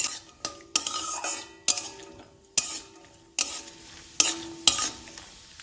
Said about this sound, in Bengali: ড্রাই ফ্রুটসগুলো ভালোভাবে ভাজা হয়ে গেছে।